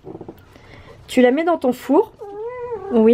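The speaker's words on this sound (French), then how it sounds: "ça c'est mon chat qui valide." A pet cat meows several times in a rising, wavering call, close and fairly loud, with a person speaking French just before and between the meows in a kitchen.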